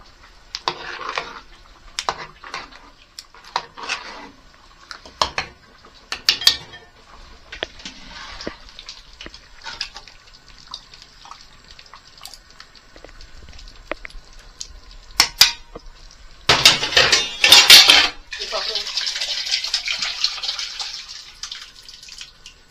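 Mutton dalcha with lentils, tamarind, coconut and curry leaves stirred in a pot, giving intermittent wet scraping and sloshing with a louder, denser burst of stirring near the end; no one speaks.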